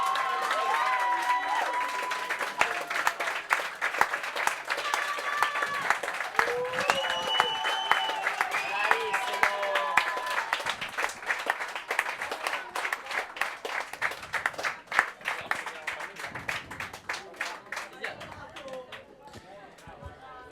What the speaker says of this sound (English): as the Italian side of the crowd loses in celebrations